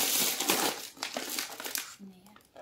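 Plastic bags holding dates crinkle and rustle up close through most of the moment, with a voice and other talk mixed in before it quiets near the end.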